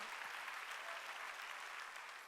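A church congregation at a Sunday worship service claps together in a steady, dense patter that holds evenly throughout, fairly distant and unbroken, with no voices standing out.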